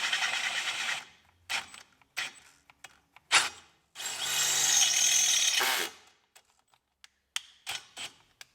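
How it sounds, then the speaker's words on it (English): A power drill whirs in a short burst, then again for about two seconds, between scattered clicks and clunks of handling tools while working on an old Caterpillar dozer's fuel system. "this drill is really starting to frustrate me"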